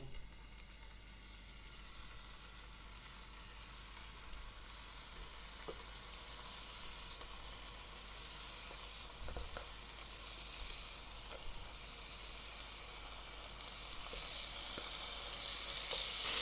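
Pork laid into hot oil in a frying pan, sizzling with a continuous soft hiss that slowly swells louder toward the end, with occasional faint pops and a quiet, close feel.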